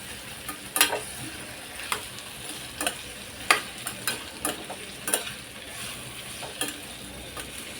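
Raw mango muramba is stirred in a pan with a spatula, making rhythmic scraping strokes about every half second to second over a soft background sizzle.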